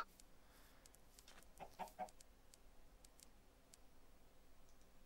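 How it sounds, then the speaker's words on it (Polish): A Minecraft chicken gives a couple of soft, quick clucks amid faint clicks and ticks in a hardcore survival game, quiet and alone with no voices. "Mała kureczka."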